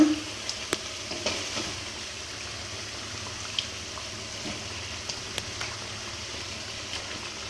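Masala and chicken pieces sizzle steadily in oil in a pan as a chicken kosha curry is stir-fried, with a continuous frying hiss broken by occasional light clicks of stirring.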